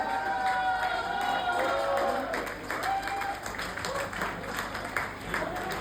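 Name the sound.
applause and cheering from the audience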